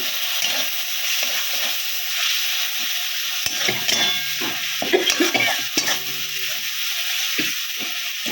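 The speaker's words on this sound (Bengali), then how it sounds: "আমি সামান্য একটু জল দিলাম মশলাটাকে কষাবার জন্য" Spices frying and being stirred in a wok-style pan with a little water added, fish-head and cabbage curry cooking with whole green chillies; steady close sizzle with repeated scraping stir strokes and clinks of a spatula.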